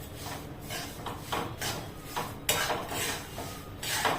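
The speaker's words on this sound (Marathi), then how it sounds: "मंद आचेवरच भाजा ही डाळ, मोठे आच अजिबात करू नका." Moong dal roasting in ghee in a pan over low heat for halwa, with repeated scraping and stirring strokes of a spoon against the pan, close and rhythmic, no voices.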